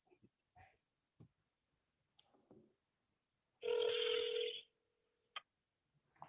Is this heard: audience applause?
no